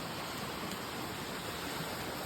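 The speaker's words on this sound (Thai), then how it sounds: "บรรยากาศที่อ่าน้ำตกก็จะประมาณนี้เลยนะคะ" Steady broadband rush of a waterfall at an outdoor spot, a constant even hiss with no breaks or voices, moderately faint.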